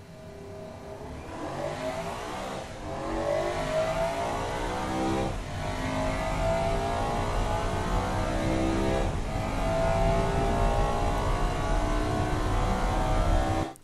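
Engine of a 2000 ESE Tsunami car in the game Automation revving hard and pulling through second, third and fourth gear, pitch climbing and dropping at each shift, loud and continuous with no talk.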